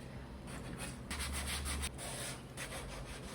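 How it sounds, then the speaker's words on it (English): A small handheld electric sander works over a wooden dresser, a faint, steady buzzing rasp with rhythmic scrubbing pulses as it moves back and forth. "I use this little handheld sander we got from Home Depot to kind of get into all those"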